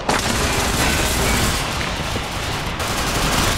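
Sustained gunfire from the online shooter Tom Clancy's Ghost Recon Phantoms, loud and continuous throughout with dense overlapping shots and no clear gaps, heard without speech.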